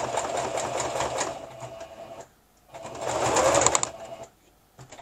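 A sewing machine makes a backstitch on a fabric tissue case, a fast rattling run, a short pause, then another stitching burst before it stops.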